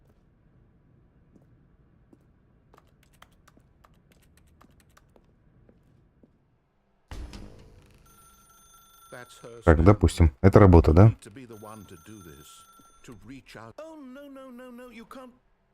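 A telephone rings in The Stanley Parable: Ultra Deluxe, a bright repeating electronic ring that comes in partway through, loud and close, overlapping a person talking and earlier keyboard and mouse clicks.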